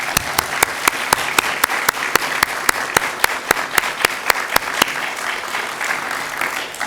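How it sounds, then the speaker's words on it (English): An audience applauds librarians at a reading event, with scattered clapping from a modest crowd and one loud, sharp clapper in front beating a regular rhythm through most of the stretch before the applause fades. "join me in a round of applause of appreciation for the good work our librarians do for us all"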